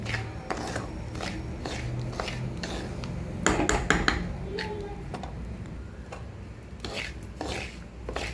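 Semolina (rava) roasting in a pan, with a steady run of light scraping and ticking taps as a spoon stirs the grains, a few louder metallic knocks in the middle, close and dry with a low background hum.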